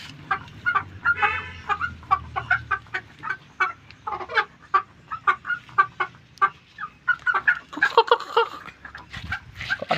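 Several chickens and roosters cluck and squawk in a busy, irregular stream of calls, close and fairly loud, with a dog-like bark mixed in.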